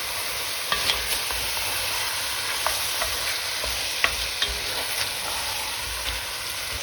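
Tomato paste frying into meat and onions in a pan for Neapolitan ragù, an even bubbling sizzle with occasional soft spoon taps and scrapes, close and steady with no talk.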